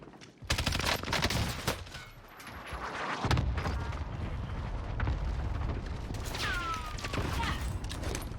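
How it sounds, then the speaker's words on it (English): Cluster strike in the Call of Duty Warzone video game, a rapid string of booming explosions and crackling blasts rolling on for several seconds, loud and dense, with brief voice chatter in the mix. "Enemy cluster strike incoming."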